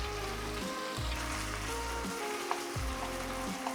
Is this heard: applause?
no